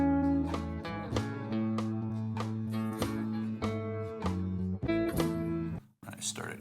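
Electric guitar lead lick from a song's solo, a run of separately picked notes with slides and bends, played clearly and alone, ending in a brief pause and a scrape.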